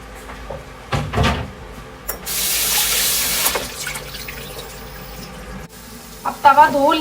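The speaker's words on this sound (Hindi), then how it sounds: "अब तवा धो लिया है" A tawa griddle pan being washed at a kitchen sink, with a steady rush of running tap water for a couple of seconds, surrounded by clanks and knocks of handling and a brief voice near the end.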